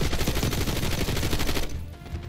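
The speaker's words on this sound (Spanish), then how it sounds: "¿Qué me está disparando?" Rapid gunfire aimed at the player in the Call of Duty: Black Ops 6 video game, a dense loud burst of many quick shots that stops abruptly near the end.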